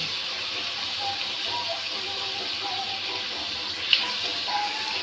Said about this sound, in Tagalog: habang ginigisa ko na yung karne o pork